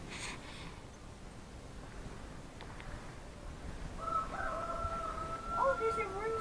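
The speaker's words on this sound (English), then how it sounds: "Oh, there's a rooster." A rooster crows partway through, a moderately distant, drawn-out call rising over steady outdoor background noise with faint voices nearby.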